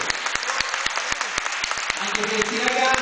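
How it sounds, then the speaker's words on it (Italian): An audience at a Wushu Kung Fu display claps for the group of young athletes, with sharp individual claps that build into steady applause while a voice carries over it. "un applauso molto grande e un applauso a tutto il gruppo"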